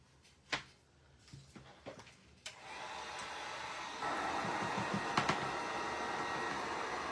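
Hair dryer blowing on fresh paint on a wooden star craft, switching on after a few handling knocks and then a steady whooshing hum that gets louder midway.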